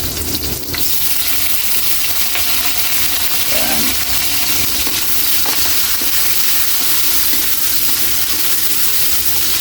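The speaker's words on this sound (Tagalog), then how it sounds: "Ilagay na natin yung sibuyas. Ilagay na rin natin yung kamatis." Onion and tomato sauté with garlic in a hot pan for a tilapia pochero, giving a loud, steady sizzle and crackle that runs the whole time, with a few faint clinks of stirring.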